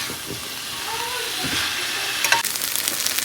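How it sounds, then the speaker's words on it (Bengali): Tofu sizzles steadily in a hot pan with a constant hiss, and a few scraping stirs break through toward the end. "এখানে টপু ভাজা করে নিচ্ছি"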